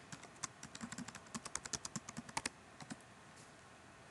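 Quick bursts of clacking keystrokes on a computer keyboard, close and fairly quiet, tapping out an email address in an uneven rhythm before trailing off into stillness.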